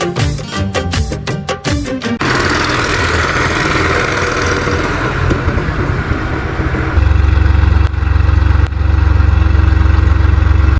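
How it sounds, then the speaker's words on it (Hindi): A tractor engine running in a potato field, loud and close, with rapid chugging pulses at first giving way to a steady idling drone with a deep low throb later. "ट्रैक्टर वाले भैया हमारे खेत से ट्रैक्टर बाहर निकाल खड़ा कर देते हैं"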